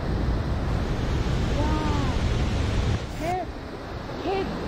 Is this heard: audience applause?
no